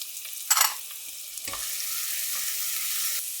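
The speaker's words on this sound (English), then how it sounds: "our pot is hot. Let's add a little bit of oil. And now just add the onions, the carrots," Onions, carrots and celery tipped into hot oil in a pot for a gnocchi soup, giving a brief burst of sizzle and clatter, then a steady, moderately loud frying hiss that continues alone.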